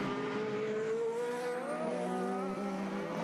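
Formula Renault and Formula-style single-seater race cars roar around a track during a 2021 Irish Formula BOSS round, a steady high-pitched engine whine that sweeps in pitch, moderately distant and continuous with no talk over it.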